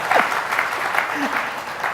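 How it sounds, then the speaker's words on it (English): Women in an audience clap during a business federation address, a steady patter of applause across the whole stretch with faint voices beneath it. "And so I see only the women clapping."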